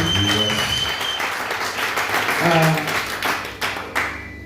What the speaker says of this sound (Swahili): Pigia Bwana Yesu makofi mazuri